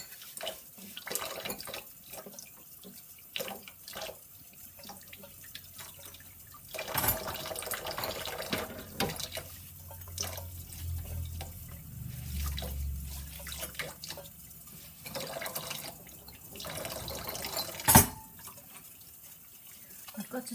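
Water running and splashing in a sink while bottles are washed with a bottle brush by someone in small black rubber gloves, with intermittent drips, clatter and scrubbing, and occasional quiet talk.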